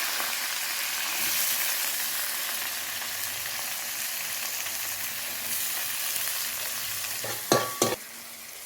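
Sliced onions sizzle steadily in hot coconut oil as they are stirred for an egg curry, a continuous bright frying hiss with a couple of sharp utensil scrapes near the end.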